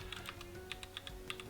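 Quick bursts of key presses on a computer keyboard, irregular and close, rattle softly over a faint background hum.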